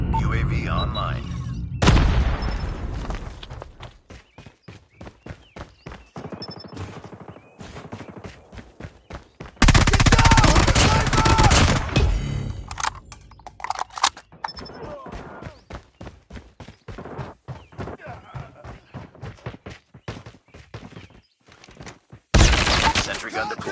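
Rapid automatic fire from a deployed sentry gun in Call of Duty Mobile, loud dense bursts of shots repeating throughout, mixed with other game effects and occasional voice callouts.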